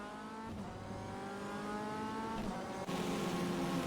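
A race car engine in a sim racing game, a steady high droning whine that holds its pitch then shifts briefly as the throttle eases, loud and continuous with no talking.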